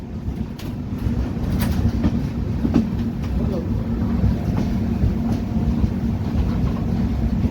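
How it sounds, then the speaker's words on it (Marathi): The Mandovi Express departs Thivim station on the Konkan Railway, rumbling steadily along, a low heavy drone with faint rattling and clicks on top, the motion continuous and close. "थिविम रेल्वे स्टेशनवरून आपली गाडी जी आहे ती निघालेली आहे"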